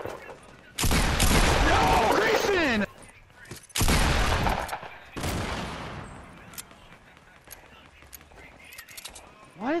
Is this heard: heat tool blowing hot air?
no